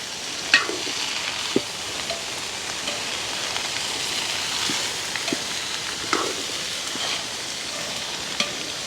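Washed long beans stir-fry in a pot in a village kitchen, giving a continuous close sizzle broken by occasional scraping clacks of the stirring spoon.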